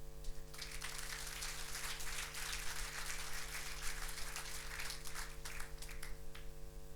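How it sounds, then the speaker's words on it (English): An audience claps at an Internet Hall of Fame induction ceremony, a steady spread of many hands in continuous applause, moderately distant over a constant electrical hum. "So your applause to Henriette Esterhuizen."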